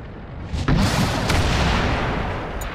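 A tank cannon in World of Tanks fires a sharp, heavy boom followed by a long rumbling decay, loud and close with no talk.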